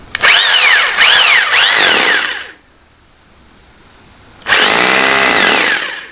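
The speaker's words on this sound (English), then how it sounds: "I'm going to drill and fasten that in position" A cordless power drill drives a fastener to hold a piece in position during a repair with two-part filler and hardener, two loud close bursts of whining motor with rising and falling pitch and a quiet gap between them.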